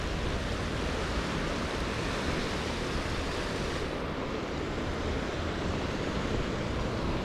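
The Athi River runs fast and high in the rainy season, giving a steady, dense roar of rushing water that stays constant and loud with no voices over it.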